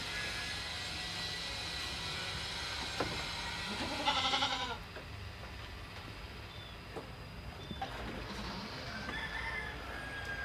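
Goats resting in a pen on a dairy goat farm give a loud, close bleat, with softer calls and farm noise continuing over a steady outdoor background.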